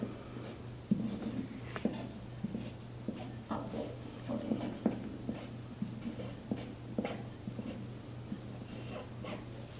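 A pen scratches steadily across fabric in short repeated strokes, close and fairly quiet, with a low steady hum underneath.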